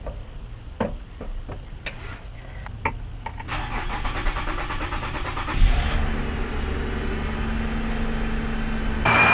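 A car engine cranks repeatedly after a fuel pump swap on a no-start car, with clicks and short starter bursts followed by sustained churning cranking and a loud catch near the end.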